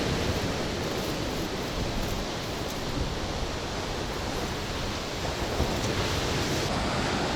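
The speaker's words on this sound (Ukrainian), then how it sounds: "А, да, хвиля стає більше. Вітер в нашу сторону з моря." Black Sea surf breaks on the shore near Odesa after a storm, with wind blowing in from the sea. The result is a loud, continuous roar of waves and gusts with no pause and no voices.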